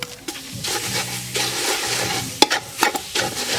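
Spices and prahok fry in a pot while being stirred, giving steady sizzling with sharp scraping clicks of a utensil against the metal, close up and fairly loud.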